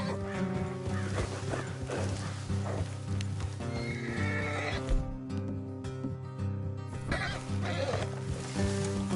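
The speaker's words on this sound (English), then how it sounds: "That's a fine horse." In Red Dead Redemption 2, a horse whinnies and its hooves clip-clop along a road while a steady orchestral score plays underneath.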